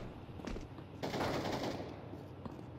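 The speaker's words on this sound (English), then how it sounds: "This man just magically started shooting through smoke." Rapid automatic gunfire from a first-person shooter video game, an enemy blind-firing through a smoke grenade, sounding as a dense burst of shots at moderate level, fairly close, with no talk over it.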